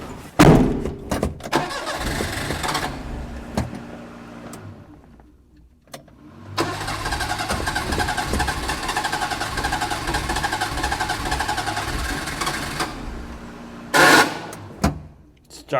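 Old car that sat for years cranking and catching with its fuel pump disconnected, rough bursts of engine noise with a long uneven run between thumps and a sharp loud burst near the end.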